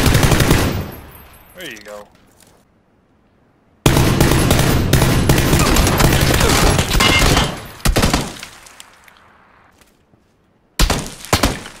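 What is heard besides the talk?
gunfire in video game PUBG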